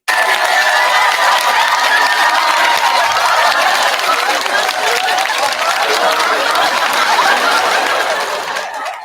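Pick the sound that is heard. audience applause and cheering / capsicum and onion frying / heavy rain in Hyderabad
audience applause and cheering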